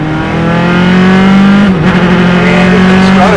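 Single-seater race cars roar onto the front straightaway at Mid-Ohio, engines loud and close with a high sustained drone, a brief shift in pitch midway as one car changes gear, then another screaming engine overlapping.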